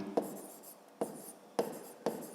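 Four sharp, close taps of a pen or chalk writing by hand, spaced unevenly, with soft scratching between strokes in a quiet room.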